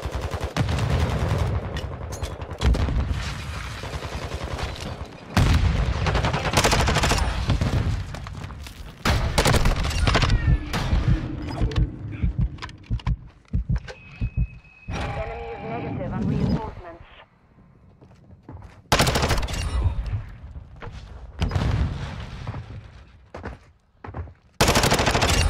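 Bursts of gunfire in Call of Duty ranked play, loud rapid volleys and single shots broken by short pauses, with players talking over the shooting throughout.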